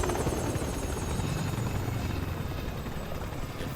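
Steady, loud helicopter rotor drone from the Resident Evil 6 video game, a continuous thudding chop with a high whine running for the whole stretch, no talk over it.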